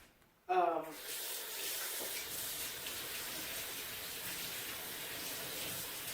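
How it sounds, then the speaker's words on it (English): A kitchen tap turns on abruptly and water runs in a quiet, steady hiss as a hand is rinsed underneath, continuing evenly to the end. "I'm rinsing my hand off"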